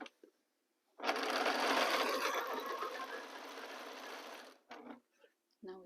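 A sewing machine stitching quilt pieces with a quarter-inch seam: one steady, close mechanical whirr of rapid stitching lasting a few seconds, followed by short bursts of the machine.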